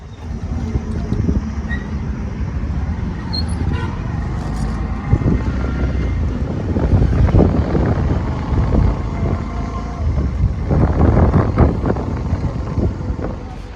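A motorcycle ridden along a road, its engine rumbling steadily beneath continuous wind buffeting on the microphone, with no pauses across the ride.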